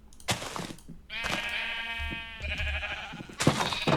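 Pink sheep in a video game bleat twice in succession, long quavering cries close by, with soft clicks and taps before and after.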